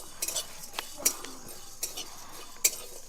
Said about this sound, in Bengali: এবার শুকনো খোলায় মশলাগুলো ভেজে নেব